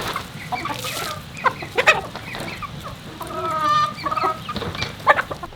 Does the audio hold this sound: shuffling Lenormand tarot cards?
no